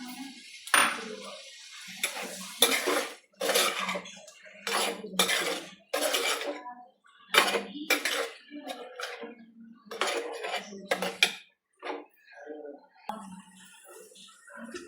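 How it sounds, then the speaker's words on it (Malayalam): Prawns being stirred in a cooking pot with drumsticks added for a coconut prawn curry, with repeated close metallic clinks and scrapes of a utensil against the pot in uneven bursts, loud and near. "കൊഞ്ചിട്ട് ഇളക്കി നമുക്ക് ഇതിനകത്തോട്ട് മുരിങ്ങക്ക ഇടാം."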